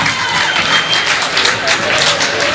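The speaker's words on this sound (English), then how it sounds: "So give yourselves a huge cheer today and a clap on the back." A large outdoor Pride crowd at a Dublin LGBTQ Pride event cheers and claps in a steady, dense wash of applause with a few cries rising over it, loud and sustained for a couple of seconds.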